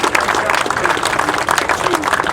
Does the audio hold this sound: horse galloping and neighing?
no